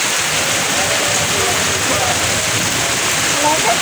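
A hard rainstorm roars steadily and loudly nearby, while faint voices murmur beneath the continuous rush of water.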